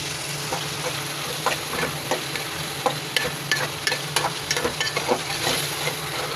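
Eggplant and potatoes fry with a constant low sizzle while a spoon scrapes and taps the pan in repeated light strokes that grow busier toward the end.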